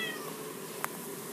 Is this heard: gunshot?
no